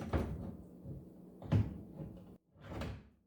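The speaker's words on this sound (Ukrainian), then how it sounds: "Вставляємо дверцята завісами в щілину." Oven door of a Gorenje cooker being fitted back onto its hinges: a few sharp metallic knocks and clunks, close and fairly loud, with a short silence between, no talk.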